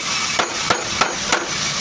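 Four sharp hammer blows strike a drill's gear part at roughly even intervals over a steady background hiss, each impact crisp and close.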